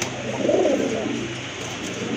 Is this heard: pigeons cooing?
yes